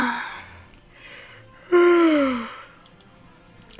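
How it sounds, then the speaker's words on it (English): A loud, drawn-out yawn sound effect from a visual novel video game, heard alone in the middle of quiet background music, swelling then trailing off over about a second. "let out a loud yawn."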